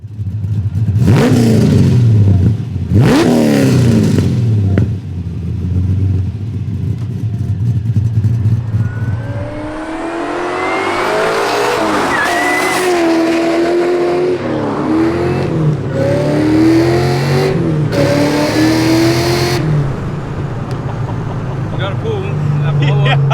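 A powerful supercharged 6-litre car engine revs hard in a few sharp bursts, then roars and whines as it accelerates through gears, loud and close, with talking mixed in.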